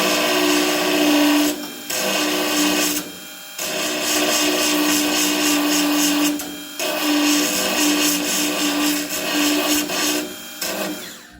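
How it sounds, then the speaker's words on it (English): A small mini belt sander grinds against the metal body of a Porsche 914, loud and close, running in long bursts separated by short pauses. "I'm going to keep using this little mini belt sander"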